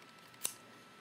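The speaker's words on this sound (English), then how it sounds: "Actually, I'm going to cut this just a little bit more." A single quick snip of scissors trimming paper during a stamping craft project, crisp and close in a quiet room, with no talking.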